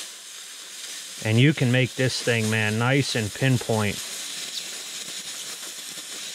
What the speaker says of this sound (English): get the steam rolling